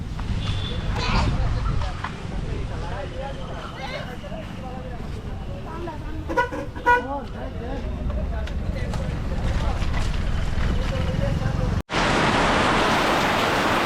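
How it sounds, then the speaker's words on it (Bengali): Heavy monsoon rain pours outdoors during flooding as a constant wash of noise under a person talking, then swells into a loud, dense roar near the end. "দেখো বৃষ্টি কীভাবে চলে এসছে একদম মুসলধারে বৃষ্টি"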